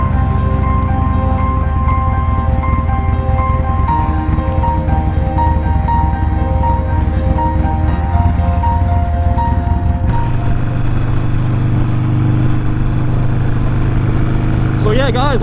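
Steady motorcycle engine drone heard from a helmet-mounted action camera on a ride through Wales, loud and constant with wind rush, shifting tone partway through as the engine note changes.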